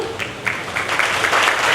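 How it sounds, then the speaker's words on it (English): Applause rises for speakers at an inter-school debate, a crowd of many hands clapping in a steady, building wash with a brief voice near the start. "a big round of applause for all the speakers"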